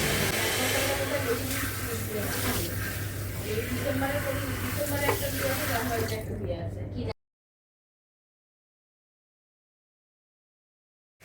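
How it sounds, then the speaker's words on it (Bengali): Tap water runs steadily while hair is washed in the outer room of a home, a loud, even rush with a low hum beneath it that cuts off abruptly after about seven seconds, leaving silence. "আমি এখন বাইরের ঘরে বসে চুল ধুচ্ছি"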